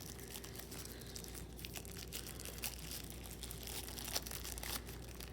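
Packaging around a portable monitor is cut open, with continuous close crinkling and tearing of plastic and cardboard plus scattered sharp crackles.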